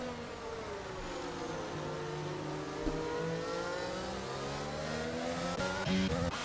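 Race cars lapping Imola in a racing video game, their engines revving and whining as they rise and fall through the gears, loud and continuous with no talk.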